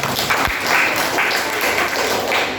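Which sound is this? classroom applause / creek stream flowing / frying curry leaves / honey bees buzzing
classroom applause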